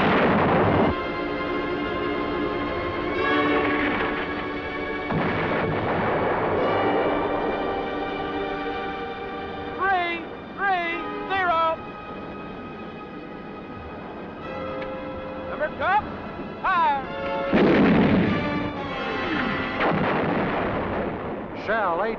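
US Marine 105mm howitzers of an artillery battery fire in the field, heavy booms bursting out several times over a long stretch, separated by ringing tonal sounds and some talk.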